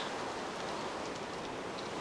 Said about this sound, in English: but I say, turn off the rain